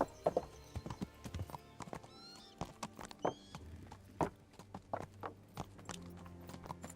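Horse hooves clip-clop at a walking pace, a steady run of sharp, fairly close hoofbeats with an occasional whinny, otherwise nearly alone.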